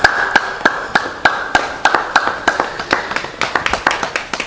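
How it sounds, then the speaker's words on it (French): Scattered clapping from a small group at a football trophy presentation, sharp separate claps in an uneven rhythm, fairly close and clear with no talking over it. "Sous vos applaudissements, s'il vous plaît."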